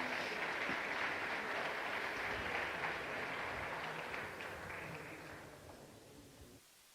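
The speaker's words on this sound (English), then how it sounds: "Big applause for them, please." Sustained applause from a summit-stage audience at an innovation awards event, a dense wash of many hands clapping steadily for about six seconds before fading out abruptly.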